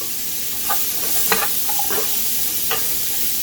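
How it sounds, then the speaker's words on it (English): Chickpeas and garlic fry over the heat in a pan with a steady sizzle, while a spoon scrapes and stirs them in a few distinct strokes, close and moderately loud, with no talking. "So I'm gonna cook it a little bit, and then I'll add my garlic a little after it's cooked some."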